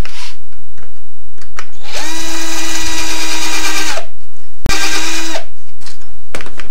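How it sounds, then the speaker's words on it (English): A power drill bores into a piece of scrap wood held in a wood vise, with two loud whining bursts, the first longer, separated by a sharp click and a pause. "mount it into our wood vise, put on our eye protection,"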